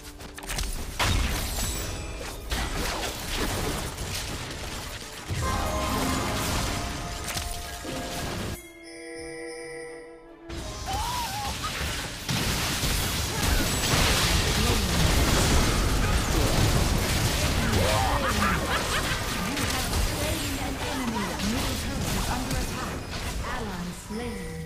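A turret under attack and destroyed in Wild Rift, the League of Legends mobile game: constant loud combat bursts, pops and crashing impacts, with one sudden short drop to near silence partway through.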